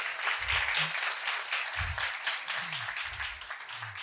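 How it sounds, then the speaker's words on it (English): Audience at an ISKCON Vyasa Puja festival in Hyderabad applauding, steady crowd clapping throughout with low murmurs underneath. "Please give me one round of applause."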